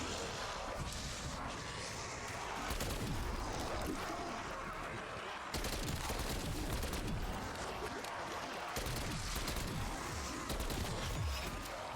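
Rapid bursts of automatic gunfire from a Call of Duty: Cold War match on PS5, dense and continuous across the whole stretch, with brief pauses between volleys and faint voices underneath.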